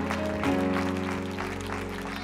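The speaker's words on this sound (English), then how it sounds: "Come on, clap your hands and give the Lord praise." Church congregation at a holy convocation claps along to praise music, with rhythmic hand claps sitting under sustained organ or keyboard chords and a steady bass.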